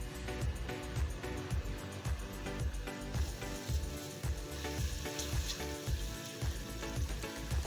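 Ginger garlic paste fries in three and a half tablespoons of oil in a pot, a soft continuous sizzle and crackle with rhythmic stirring scrapes, fairly quiet and with no talking.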